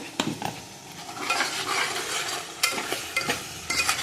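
Ground masala is stirred in a frying pan for Udupi-style fish pulimunchi, with a soft sizzle under repeated scraping and clinking strokes of a spoon against the pan, close and fairly quiet.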